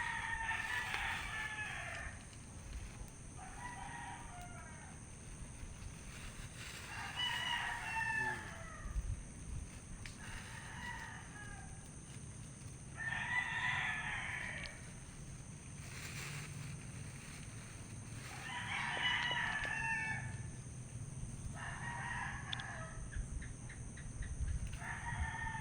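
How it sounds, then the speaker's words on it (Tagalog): Fighting cocks crowing in repeated bursts, one call after another with short gaps between them, heard at moderate distance over a constant low background hum outdoors. "Pangsabong ng mga manok guys."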